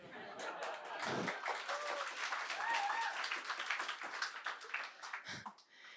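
A stand-up comedy audience claps fairly faintly and steadily, with a voice talking over the clapping and short thumps now and then.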